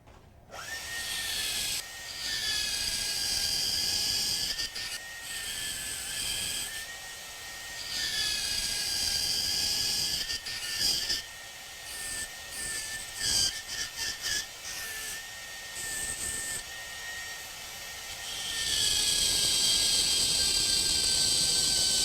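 A dental impression is trimmed down to marked lines with a rotary lab tool, giving a steady high-pitched whine that runs through most of the span, dipping and stuttering briefly before rising loud again at the end.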